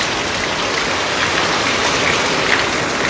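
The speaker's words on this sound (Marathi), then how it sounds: "हे बघा जोरातच आला पाऊस" Heavy monsoon rain pours down on a mud house in a dense, constant roar of water hitting surfaces, with no voices.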